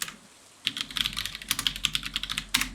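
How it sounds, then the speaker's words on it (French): Rapid clacking keystrokes on a computer keyboard come in a busy irregular burst, close and clear, with no voice over them. "je fracasse mon clavier à chaque fois"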